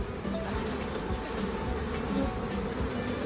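Dense, steady buzzing of many bees close by after a hive frame is shaken, a continuous humming swarm with no pauses.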